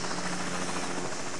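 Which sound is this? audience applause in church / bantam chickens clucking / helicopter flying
helicopter flying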